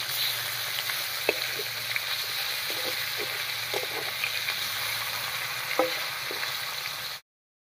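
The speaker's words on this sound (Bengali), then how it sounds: "মাছটা ভাজা হতে থাক" Fish frying in a pan produces a quiet, steady sizzle with occasional soft clicks and spatters, continuing alone without speech before cutting off abruptly.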